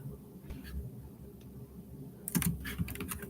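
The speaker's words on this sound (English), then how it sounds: "hold on, I'm about to type it in." Keys clatter on a computer keyboard in a short, quick burst of typing near the end, after a quiet stretch of faint room noise.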